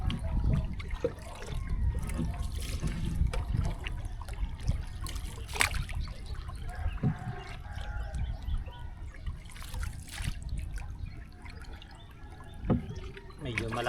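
A river runs fast where a fishing net is set, giving close, continuous gurgling, trickling and splashing with irregular bursts, and a voice speaks now and then over the water.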